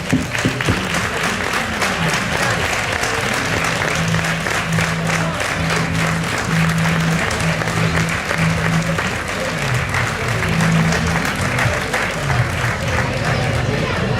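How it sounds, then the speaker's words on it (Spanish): Steady, dense applause fills the room at an awards ceremony for a dirt-road rally stage, the XIV Tramo de Tierra Cierru Los Pinos, sustained at even loudness throughout, with a low hum running underneath. "un fuerte aplauso les pido"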